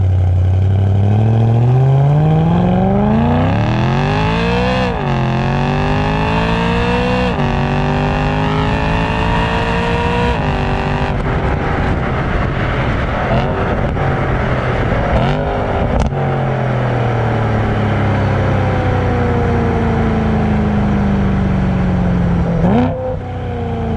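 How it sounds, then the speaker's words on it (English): A BMW M3 V8 with a DCT gearbox revs hard through repeated rising pulls, each upshift snapping the pitch down, then blips throttle on downshifts; loud, close, continuous engine roar with no talking. "When it revs up and it blips the downshifts"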